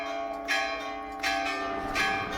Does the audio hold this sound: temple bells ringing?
yes